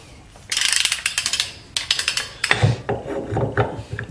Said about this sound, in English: we're going to torque this thing down 40 foot-pounds